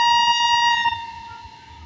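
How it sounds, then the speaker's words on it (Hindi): A train hauled by a WAP7 electric locomotive approaches Manak Nagar station, its horn sounding one loud, steady, reedy blast that fades over under two seconds, with faint rumble beneath and no talking. "मुझे लगता है वही आ रही है ट्रेन सामने से"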